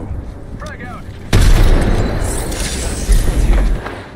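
Frag grenade blast in Apex Legends ranked play, a sudden loud boom with a long rumbling tail and a second swell near the end, following brief talk before the detonation.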